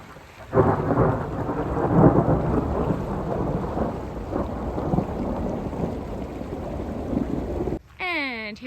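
A deep rolling rumble of thunder with steady rain hiss, loud and sustained, followed at the end by a brief rising electronic chirp.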